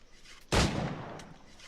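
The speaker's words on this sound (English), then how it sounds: "you just press L2 to draw your gun, and R2 to shoot" A single sharp pistol shot from the video game Assassin's Creed IV Black Flag, with a brief fainter crack about half a second later, fading into a low ambient tail.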